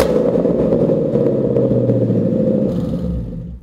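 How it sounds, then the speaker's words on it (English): A 2015 Ford Mustang GT V8 with a Borla S-Type cat-back exhaust drones loud and raspy at steady revs, then eases off and fades near the end. "S-Type has a very signature sound. It has that aggressive raspiness."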